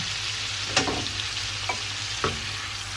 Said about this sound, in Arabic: نجيب الجريل بتاعنا ونحط فيه قطعتين من الزبده، معلقه ثوم، ريحه الثوم تطلع كده